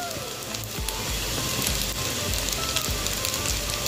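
Vegetables and pasta frying in a pan at home, seasoned with salt and oregano, give a steady close sizzle and crackle that runs unbroken throughout, with no talking.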